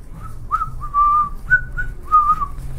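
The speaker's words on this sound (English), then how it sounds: "So they just whistle a little bit here and there just to kind of just get under your skin." A person whistles a few short, high melodic phrases, four or five separate bursts with brief gaps between them, close and clear with no talking.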